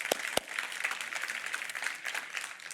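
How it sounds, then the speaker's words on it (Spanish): Church congregation claps together in a soft, continuous patter, with two sharp nearby claps at the start and no speech over it. "Un aplauso fuerte."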